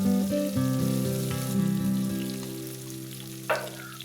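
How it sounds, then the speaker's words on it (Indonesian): Chili and tomato stir-frying in a home pan: a steady close sizzle with light stirring scrapes throughout, and a brief louder splash of sizzle near the end, no talk. "Masak cabai hingga matang, dan setelah cabai terlihat matang bisa kita masukkan tomat."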